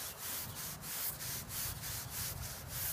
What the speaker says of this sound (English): I just like to brush it in just to make sure I've got it put in properly.